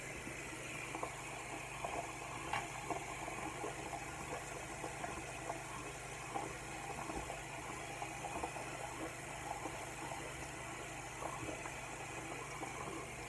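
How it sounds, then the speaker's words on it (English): Hot water runs steadily from a tap into a sink, a constant moderate rush with faint splashes and small clicks, no voices. "I know y'all don't like the sound of the water,"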